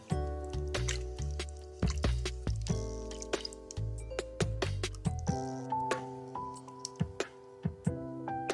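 Soy sauce and Worcestershire sauce are stirred into beef tips in a pot, giving a rhythmic series of wet squelching, sloshing strokes with small clinks, close and fairly quiet, with no talking.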